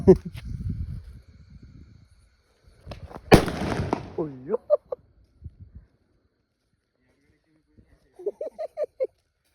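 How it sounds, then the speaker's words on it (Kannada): A loud onion bomb firecracker bang cuts through, followed by crackling and several short sharp pops, with voices talking before and faint chatter afterward. "ಇದು ಈರುಳ್ಳಿ ಪಟಾಕಿ ತಾನೆ"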